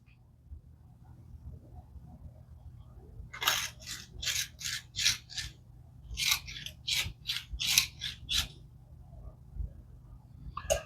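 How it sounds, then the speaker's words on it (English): A pipe reamer grinds out a tobacco pipe bowl in a run of short, crisp scraping strokes, close up, in two bursts of quick rhythmic turns with a pause between, over a faint low hum. "I'm gonna start reaming this out"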